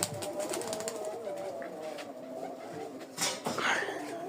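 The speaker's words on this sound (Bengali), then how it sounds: "এগুলো সব বাজির কবুতর।" Racing pigeons in a loft give soft, low cooing calls, close by, with a brief rustle and flap of wings near the end.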